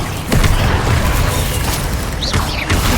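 A Hogwarts Legacy combat sequence with Confringo and Bombarda spells: a heavy explosive boom opens the short stretch, followed by continuous rumbling blast noise and a few sharper pops near the end.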